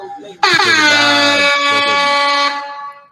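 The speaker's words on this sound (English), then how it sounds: "I love air horns." A loud, blaring air horn sounds after a brief quiet start, holding a sustained harsh tone for about two seconds before cutting off.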